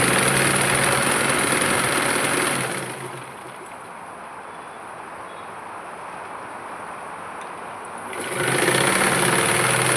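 A sewing machine stitches a baby's cap in a steady continuous whir, loud at the start and end with a quieter, lighter running stretch in the middle.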